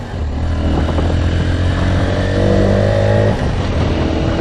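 A VGM Apache 125cc motorcycle is ridden, its engine humming steadily and loud throughout, with a rise in revs partway through as it pulls along.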